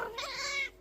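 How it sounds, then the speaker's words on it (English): A cat in a room gives a single short meow, close and clear, rising and then fading within about a second. "There's a cat."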